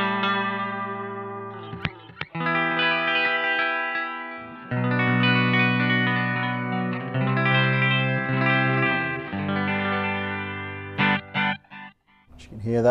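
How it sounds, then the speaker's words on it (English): Electric guitar through a Line 6 HX Effects unit on a modulated chorus echo setting: sustained chords and picked notes swim and shimmer, with repeats trailing behind them. It is loud and close, with short pauses and a few scratchy pick strokes near the end. "we've got a modulation chorus echo sound."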